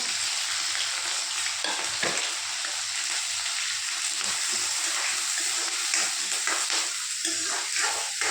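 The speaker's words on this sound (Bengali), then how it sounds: "পেঁয়াজ কাঁচা লঙ্কাটা বেশি পাকাবো না, হালকা পাকিয়ে নেবে" Onions and green chillies fry in hot oil with cumin seeds in a pan, a loud, steady close sizzle with stirring scrapes and occasional crackles, no voices.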